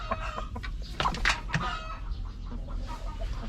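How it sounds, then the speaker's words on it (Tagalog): Chickens from a backyard flock cluck close by in quick, chattering bursts, several birds overlapping in a busy, continuous stream of calls. "Yung mga naunang manok yan. Na inalagaan ko."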